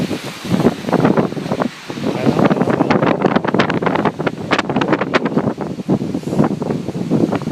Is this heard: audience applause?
no